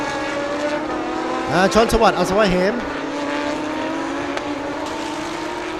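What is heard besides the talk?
Lamborghini race car engine at a race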